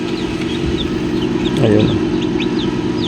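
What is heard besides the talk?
newly hatched chicks from egg incubator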